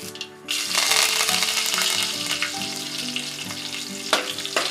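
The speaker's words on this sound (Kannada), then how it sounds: "ಸಾಸಿವೆ ಸಿಡಿದ ಕೂಡಲೇ ಬೇವು ಸೊಪ್ಪು." Mustard seeds splutter and curry leaves fry in hot oil for a banana flower palya, a sudden burst of crackling sizzle that settles into a busy continuous fry with a few sharp pops, close and without speech.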